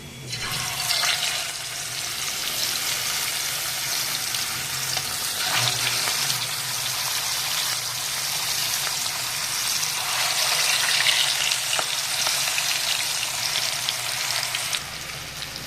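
King fish pieces fry in hot oil in an iron pan, a loud, dense, continuous sizzle and hiss with brief surges as pieces settle, close by and without talking.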